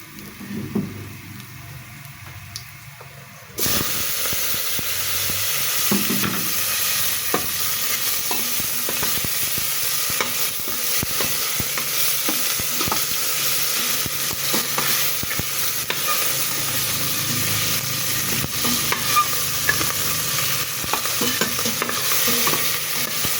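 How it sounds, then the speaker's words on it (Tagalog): Tawilis, small freshwater fish, frying in hot oil in a pan, a loud steady sizzle with crackling pops that begins abruptly a few seconds in and holds strongly to the end, with no talking. "isda na tawilis na pinirito"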